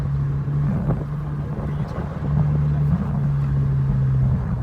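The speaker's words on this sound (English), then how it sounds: "Melo, your car sounds good." A VW MK4 1.8T with a custom cat-back exhaust idles and blips close by, a deep droning tone that rises in short revs, with voices talking over it.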